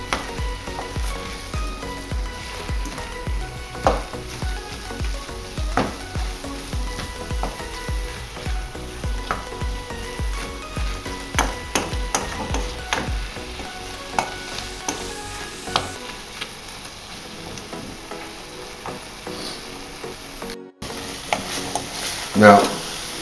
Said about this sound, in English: when you are cooking the meat, at this point you keep on stirring the ingredients